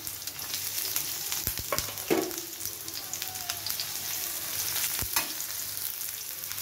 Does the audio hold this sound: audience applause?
no